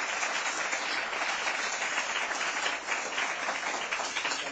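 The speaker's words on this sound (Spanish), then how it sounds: "Te pediría un aplauso para Jorge y para Rui." Steady, dense applause from a session audience for speakers Jorge and Rui, a continuous even wash of many hands clapping at moderate distance, fairly soft and unbroken for several seconds with no voices.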